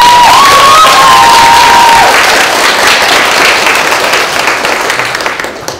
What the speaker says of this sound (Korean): 좀 더 실감 나도록 더 큰 박수 부탁드립니다.